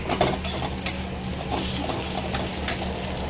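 Egg frying in a pan in a home kitchen, a steady low sizzle running throughout with occasional clinks of a utensil against the pan, close and moderately loud with no voices.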